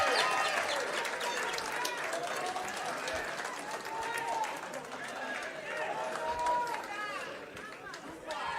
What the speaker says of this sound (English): Another round of applause for Baba wa kila mtu.